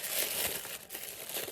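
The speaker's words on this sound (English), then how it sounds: "So I'm going to unwrap things now, live on the podcast." Wrapping paper crinkles and tears as a wrapped gift is opened indoors, a continuous close rustling and crumpling for about a second and a half, with no voices.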